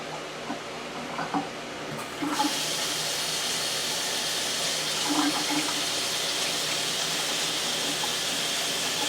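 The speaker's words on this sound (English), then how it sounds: "Okay, I have some water in this bowl." Water from a tap runs into a bowl in a kitchen, a few faint clinks first, then a steady close hissing pour that continues to the end.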